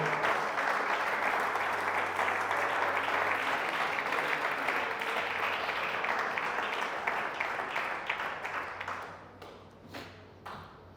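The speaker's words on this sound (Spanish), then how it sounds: "Dele ese aplauso y dele esa alabanza al Señor" Sustained applause from a church congregation fills the space loudly and evenly for about eight seconds, then thins into scattered claps and fades out near the end.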